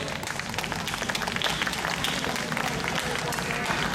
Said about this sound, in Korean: 여러분 큰 박수로 합창단을 환영해 주십시오